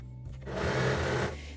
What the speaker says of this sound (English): sewing back and forward stitch to secure elastic, and I carry on sewing these 2 edges together